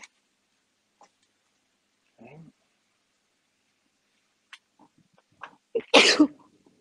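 A single sharp sneeze bursts out near the end after a few faint rustles and quiet moments, loud and close.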